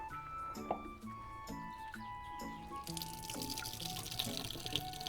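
Water runs steadily from a kitchen sink tap while radish juice is squeezed out, with dripping and clinking at first before the stream grows louder and fuller.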